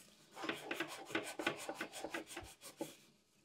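Steady back-and-forth scrubbing of rust on an Amiga 1000 computer case part, about a dozen close rhythmic rasping strokes.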